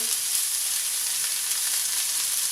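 Minced garlic frying in a pan, a steady, even sizzle that stays close and constant throughout, with no talking.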